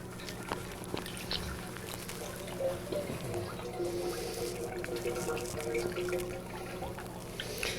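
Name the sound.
ice cream mix poured into a batch freezer machine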